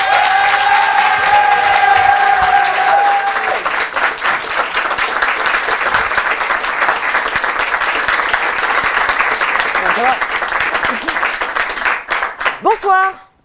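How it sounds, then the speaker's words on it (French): Loud, sustained applause with cheering from a comedy club audience greeting a stand-up comedian at the Comédie des Trois Bornes, dense clapping for about twelve seconds before fading out, with a few voices and whoops near the end. "Je vous demande d'applaudir mademoiselle Aurélie Berthaud."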